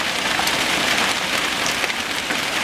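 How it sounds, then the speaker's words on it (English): An intense hailstorm pounds down hard in a residential street, a dense, loud, steady roar of hailstones and rain hitting surfaces with no break and no voices. "The hail is just so intense that it's plugged off the storm sewers"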